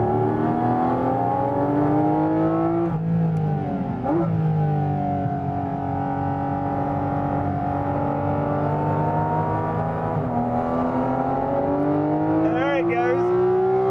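A Porsche GT3 flat-six engine sits close behind the cabin and revs hard toward 9,000 RPM, its loud rising wail climbing, dropping on a shift, then climbing again for the whole stretch.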